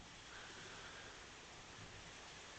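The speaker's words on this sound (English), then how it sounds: "And it's raining already." A steady wash of heavy rain in Malaysia hisses continuously at low level, dense and unbroken, with no other sounds standing out.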